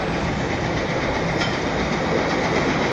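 Freightliner hi-rail maintenance-of-way truck driving on train tracks in Montreal, a heavy continuous rumbling roar with rail noise, close and loud, steady throughout with a faint clack near the middle.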